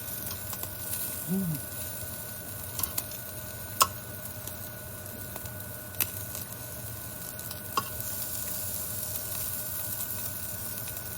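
Chicken liver sizzles steadily on a hibachi grill, a soft continuous crackle with a few sharp ticks, heard up close at low level with no talking.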